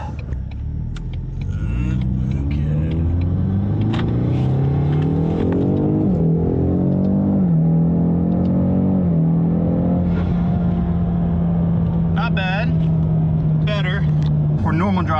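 A car engine revs hard and climbs through the gears, with loud, sustained engine tones that rise and drop at each shift. A voice talks over the engine now and then.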